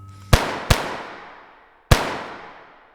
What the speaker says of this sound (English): Multiple gunshots broke the silence